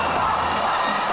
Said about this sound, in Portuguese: Torcida organizada e muita animação.